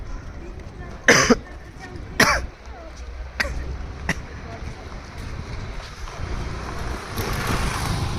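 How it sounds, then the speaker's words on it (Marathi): A few sharp coughs ring out, two strong ones early and lighter ones after, over steady background rumble and faint outdoor noise. "गाईस एवढा जास्त खोकला आलाय ना मला."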